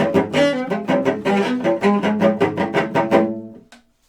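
A short passage from a trio for violin, cello and piano, notes struck in a steady series of accents, ending abruptly with a brief decaying tail.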